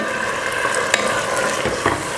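Garlic and scallions sautéed in a pan, a close, steady sizzle with a few light clicks of utensil stirring against the pan.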